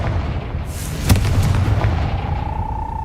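A Confringo fire spell explodes in a Harry Potter video game: one sharp boom near the middle rings out over steady low game rumble, with a faint rising tone trailing afterward.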